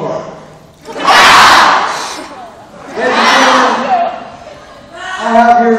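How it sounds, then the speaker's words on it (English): An audience of children and adults shouts "kapow" together as a vocal sound effect at a live event, in three loud, sustained bursts of massed voices. "if you guys could respond with, kapow,"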